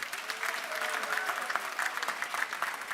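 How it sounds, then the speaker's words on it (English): Audience applause fills a university graduation ceremony in London, a steady, dense clatter of many hands clapping throughout, fairly even in loudness with no voices standing out. "Give that a round of applause."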